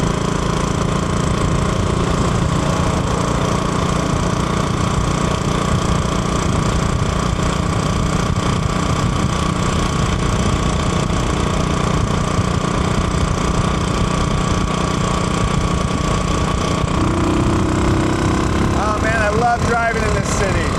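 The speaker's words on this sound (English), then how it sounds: "this is what brought me to Japan, is riding around on a motorcycle in this crazy city" Motorcycle engine cruising through Tokyo streets at night, a steady loud droning rumble with wind and traffic noise throughout, no clear pauses or gear changes.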